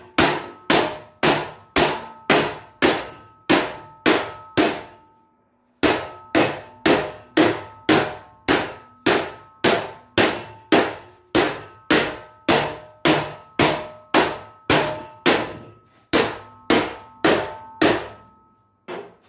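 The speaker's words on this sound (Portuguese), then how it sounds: "E aqui a gente pega o martelo aí pequeno" A small hammer beats steadily on a metal trailer profile, roughly two dozen sharp, close blows in an even rhythm, with one brief pause early on before the strikes resume.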